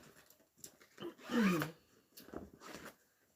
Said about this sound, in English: I haven't unzipped any of these bags or anything, so you may hear a few zippers and stuff.